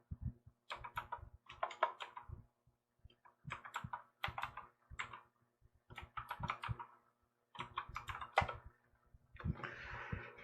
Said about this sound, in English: And then type in the URL.